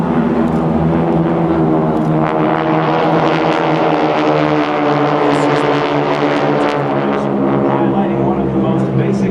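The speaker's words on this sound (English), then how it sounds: "Take a look at these 6 airplanes" Six GEICO Skytypers propeller planes fly overhead in formation at an air show, droning loudly in a thick, continuous layered hum that holds steady throughout.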